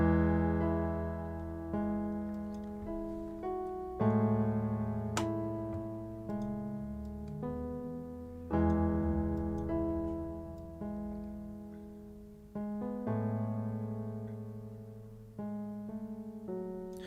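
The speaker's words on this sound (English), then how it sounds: "That's like a badly played kind of piano take that I did there." An unadorned piano take with no effects, chords struck in uneven phrases and left to decay, a few stray notes slightly off, played alone with no voices.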